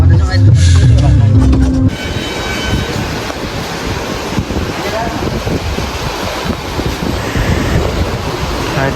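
Strong, cool wind blows steadily outdoors along a night jungle road in Taplejung, Nepal, with a roaring broadband rush that follows a short opening burst of other sound and continues unbroken and loud to the end.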